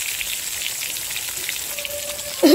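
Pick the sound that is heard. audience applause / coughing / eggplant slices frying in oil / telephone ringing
eggplant slices frying in oil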